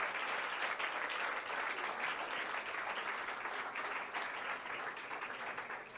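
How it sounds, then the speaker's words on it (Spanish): A church congregation applauds for the King during a sermon, a dense, steady wash of many hands clapping at moderate distance that holds for the whole stretch and fades slightly toward the end. "¿Cuántos pueden aplaudir al Rey?"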